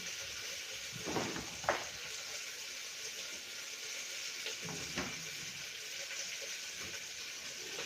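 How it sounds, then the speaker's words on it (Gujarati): Onions sizzle steadily in hot oil as they fry until crispy for a vegetable masala spinach biryani, a constant close hiss with a few louder stirring bursts. "હવે આપણે ડુંગળી એકદમ સરસ ક્રિસ્પી એવી સોતળાઈ ગઈ છે."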